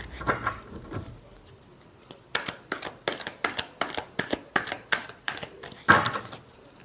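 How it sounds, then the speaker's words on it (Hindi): Tarot cards are shuffled close by in a quick series of crisp riffling snaps, a couple of softer rustles first and then a dense run of sharp bursts. "last shuffle"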